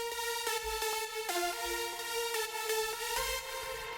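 A bright, bell-like synth lead plays a melodic line through Valhalla Vintage Verb, the reverb tail ducked by a compressor so it stays tucked under each note and swells only in gaps, clean and close with no voices.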